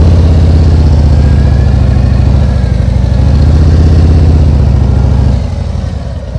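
A motorcycle rolls off slowly from a stop while the rider regulates speed with the rear brake, its engine pulsing steadily at low revs nearby before easing down and fading slightly near the end.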